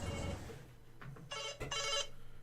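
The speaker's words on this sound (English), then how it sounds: "My phone is going off." A phone rings during a PC session of Alan Wake, its trilling bursts starting partway in and repeating twice, loud and close, with no talk over it.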